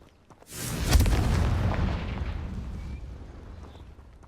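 The Confringo blasting spell goes off in the video game Hogwarts Legacy during a fight with a giant spider: a single loud, deep boom that rolls out into a long, fading rumble.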